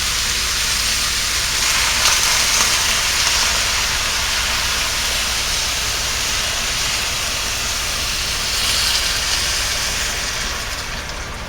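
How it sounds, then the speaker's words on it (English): White wine poured slowly down the side of a tagine holding chicken, a loud, steady rushing splash that runs unbroken for several seconds and eases off near the end, no talking. "I'm going to slowly add the white wine on the side of the tagine."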